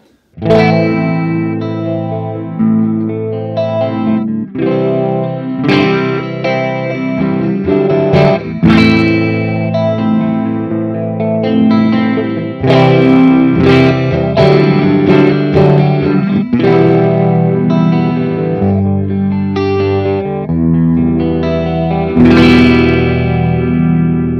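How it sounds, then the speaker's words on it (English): Electric guitar through a Cuvave Cube Sugar unit plays a loud, continuous run of chords and notes, swirling and shimmering under its chorus and phaser effects with a little reverb. "let's have a listen to the chorus and the phaser on at the same time."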